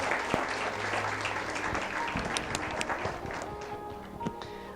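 A church congregation applauds steadily during a sermon, dense clapping with a few sharper individual claps standing out, slowly easing toward the end.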